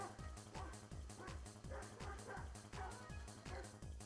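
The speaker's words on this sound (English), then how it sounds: "Neighbour's dog's going nuts." A neighbour's dog barks repeatedly in a rapid, steady rhythm, with about a dozen sharp yaps and yelps over a few seconds. It sounds fairly quiet and somewhat distant against a constant background of noise.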